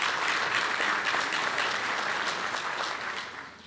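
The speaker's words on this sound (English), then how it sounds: "Another round of applause for them." Audience applause at a State of the City event honoring sponsors, a steady dense clapping from a large crowd filling the hall, tapering off slightly at the end.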